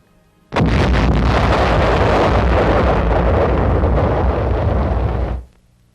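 Korean War artillery fire near the Pusan Perimeter in 1950, a single loud, sustained roaring blast that holds for about five seconds before cutting off, with no voices.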